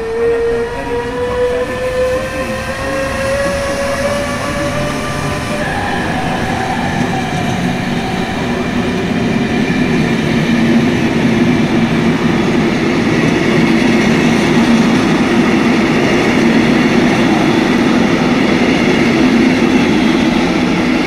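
An InterCity passenger train in the Open Rails/MSTS simulator rumbling steadily along the rails, loud and close, with a long horn tone sliding through the first seconds before the rolling wheel noise builds and carries on alone.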